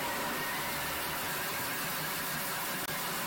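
A Thermomix chops capsicum on speed 8, a steady dense whirring roar that runs at even, fairly quiet volume for about three seconds.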